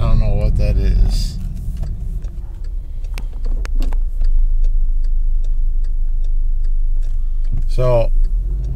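A car with a new intercooler and DXD clutch drives along with a steady low engine drone and an intermittent whooshing intake or turbo noise, while voices briefly talk near the start and end.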